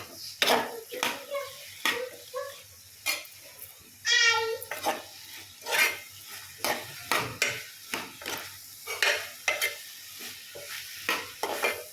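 A spoon stirs potatoes, beans and carrots with turmeric in a pan, scraping in repeated strokes over a soft sizzle, with a brief voice heard partway through.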